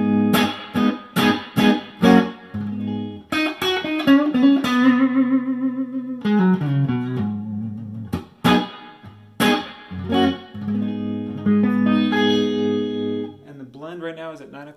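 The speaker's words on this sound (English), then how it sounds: "Spring reverb is the first one I'm going to try." Electric guitar played through an Electro Harmonix Holy Grail Max pedal on its spring reverb setting into an amp: strummed chords and single-note phrases ring out with a splashy, lingering reverb tail, loud and close.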